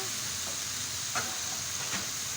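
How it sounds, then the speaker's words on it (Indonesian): Spices and palm sugar sauté in a pan for chicken noodles, a soft constant hiss with a couple of faint stirring scrapes, fairly quiet and without speech. "Kita tumis semuanya sampai layu."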